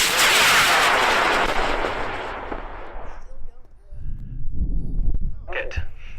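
A scratch-built model rocket, 3 inches wide, 53 inches long and weighing 7.5 pounds, blasts off in a loud, close roar that fades over about three seconds into quiet, followed by rustling and a few sharp knocks.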